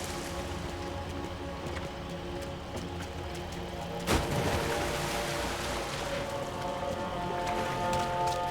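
Heavy rain falls in the video game Max Payne 3 as a storm worsens near a boat. A dense, steady patter washes over a low engine hum, with one sharp crack partway through.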